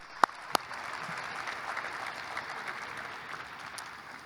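Audience at a 2021 university athletics graduation celebration applauds the student-athlete graduates, a steady even wash of clapping with a couple of sharp sharp claps near the start, moderately distant.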